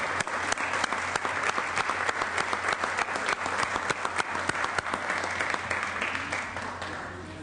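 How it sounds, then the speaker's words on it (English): A round of applause on the California State Senate floor, crisp individual claps close by over a dense crowd of clapping that holds steady and then slowly thins toward the end. "why don't we ask the California State Senate to give one more round of applause"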